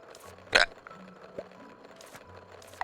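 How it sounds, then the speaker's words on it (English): A person hiccups once, sharply and close, in a short burst followed by quieter low noise and faint game sounds. "Real bad hiccup, sorry."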